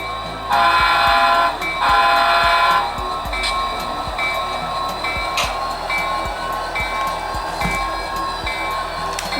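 A model train rumbles along the track with steady rhythmic clicks, sounding a horn near the start, fairly close and with no talking.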